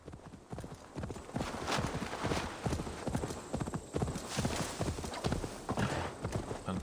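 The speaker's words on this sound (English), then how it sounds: "Oh, I think I hear a horse." Horse hooves clip-clop steadily in Assassin's Creed Valhalla, a close, loud rhythmic trot with a brief whinny-like sound over the gait.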